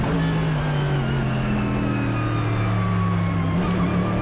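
An AMG GT3 race car at NOLA Motorsport Park, heard onboard with a steady, loud engine drone that holds a low, even pitch under light throttle through a long corner, with no talk.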